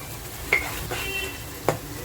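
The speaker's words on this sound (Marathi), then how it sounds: "मस्त फ्राय करून घेते मसाला लाल मिरच्या टाकल्या होत्या म्हणजे काश्मीरी मिरच्या" Masala with red Kashmiri chillies fries in a pan: a soft sizzle with two or three scraping knocks of a spoon against the metal as it is stirred, close and fairly quiet.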